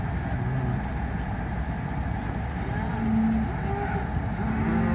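Cattle lowing in a few long, low moos during a Utah cattle drive, layered over a steady engine-like rumble that fills the background.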